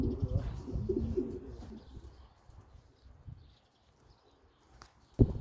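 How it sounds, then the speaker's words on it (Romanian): A young racing pigeon coos softly in low, murmuring phrases over the first couple of seconds, faint and close, then quiet loft background. "E un porumbel tânăr."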